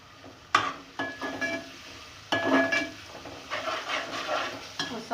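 Green chillies dropped into a hot pan of mashed boiled potatoes, with sharp spoon scrapes and clatter against the pan over a low sizzle, several distinct stirring strokes close by.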